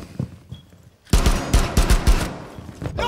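A quick string of loud gunshots in Rainbow Six, about six sharp, punchy reports in rapid succession after a quiet lead-in with soft thuds, ending in scattered fainter impacts.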